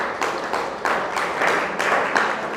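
An audience at a Hindu spiritual discourse on the Upanishads claps together in a steady, dense round of applause that carries on for a couple of seconds, with small swells in intensity.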